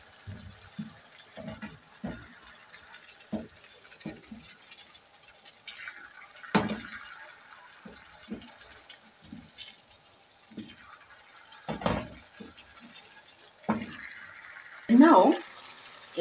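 Water is poured into a pan of spices for egg curry in a short splashing burst near the end, after scattered clinks and quiet kitchen handling, with some talk.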